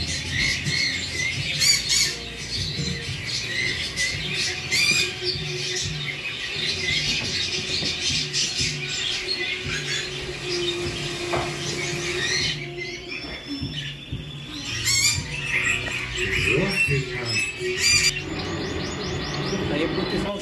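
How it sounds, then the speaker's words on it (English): Canaries call in an indoor bird room, with a busy mix of close squawks, bright chirps and trilling song overlapping continuously, while people talk in the background. "There are different types of canaries."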